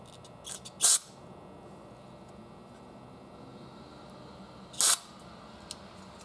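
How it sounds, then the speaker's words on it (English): Two short, sharp hissing bursts of carb cleaner spray, about four seconds apart, are blown into a passage of a Mikuni BST36 carburetor from a 1991 Suzuki 1100G, set over a steady quiet room hum. "I'm going to blow some carb cleaner down here and see if anything pops up"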